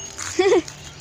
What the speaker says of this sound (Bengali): কুকুর ডাকছে।